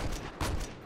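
Gunfire from an unscoped weapon in Halo Online (ElDewrito) Forge mode, a quick burst of two or three close, loud shots within a second.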